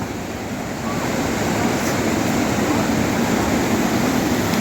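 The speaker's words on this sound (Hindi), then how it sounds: "बीच में ये नाला नदी जो भी है उसको क्रॉस करेंगे" Loud, continuous rushing of a mountain stream near a waterfall on the way to Anjani Mahadev Temple in Manali on a rainy day, a dense, steady roar close to the microphone with no voices.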